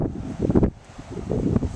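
Low, rumbling wind buffets the microphone in uneven gusts at a pond bank on a cold day, swelling and easing over a couple of seconds with no voices.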